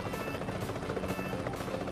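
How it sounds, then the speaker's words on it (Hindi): A helicopter in the mobile battle royale game PUBG Mobile Lite drones steadily with a rumbling rotor wash, a moderate continuous noise that holds level throughout without speech. "देखो पीछे एक हेलीकॉप्टर तुम्हें दिख ही गया होगा"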